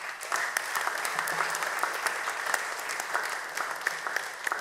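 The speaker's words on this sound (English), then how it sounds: "A round of applause for Jesus." A church congregation breaks into a steady round of applause for Jesus, many hands clapping in a continuous, moderately loud wash with sharper individual claps standing out.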